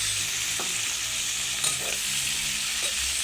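Tomatoes sauté in a pan for a malunggay dish, producing a constant dense sizzle with faint stirring scrapes throughout and no talk.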